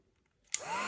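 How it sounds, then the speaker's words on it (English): Heat gun switched on to warm the end of a pencil, silence followed by a sudden click and the steady blowing whine of the gun rising in pitch as it spins up. "you take a heat device, whether it be a hair dryer or in this case a heat gun, and you heat the end"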